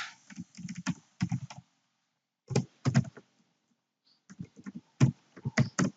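Fingers tap quickly on a computer keyboard in short bursts of clicking keystrokes separated by brief pauses, close and alone in a quiet room.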